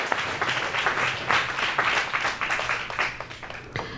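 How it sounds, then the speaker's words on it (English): An audience at a design event applauds panelists, a moderately loud wash of many hands clapping in uneven swells for a few seconds. "So give them a round of applause, please."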